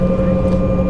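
Jet engines of a KLM Embraer 190 spooling up before taxi, heard from inside the cabin as a steady, loud, even drone with a low rumble and faint tonal whine, continuous throughout.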